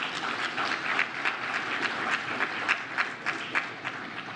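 Symposium audience on violence and crime applauding, a steady wash of many hands clapping with rhythmic louder claps pulsing through, fairly close and sustained.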